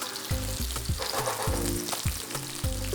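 Zucchini pieces dropped into hot oil in a pan for pasta, a loud close sizzle with repeated low thumps and crackles as pieces land and settle, no voices.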